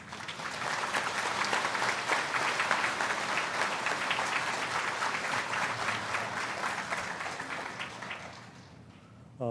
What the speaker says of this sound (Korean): 안 목사님 나오실 때 큰 박수로 환영해 주시기 바랍니다.